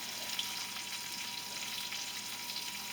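Steak frying in a pan, giving a faint, steady crackling sizzle with small pops scattered throughout and no voices.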